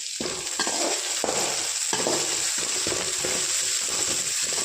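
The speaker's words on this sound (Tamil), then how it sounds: "ஆட் பண்ணி நல்லா வதக்கி விட்டுக்கோங்க." Ginger-garlic paste fries with onions in a pan for an egg curry, a dense close sizzle with repeated rhythmic spatula strokes throughout.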